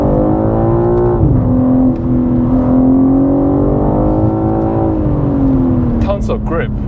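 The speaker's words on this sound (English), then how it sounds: "And the downshift is really quick." A BMW G80 M3 Competition, rear-wheel drive, drops to second gear and pulls hard. Its engine note dips briefly, then climbs in a steady, loud rising drone from inside the cabin, with voices faintly present.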